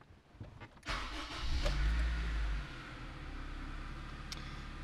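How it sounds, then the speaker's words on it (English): A 2004 Honda Civic Si 2.0L engine cranks briefly and catches, a sharp start followed by a loud rev that settles into a steady idle. "And now it wants us to start the engine."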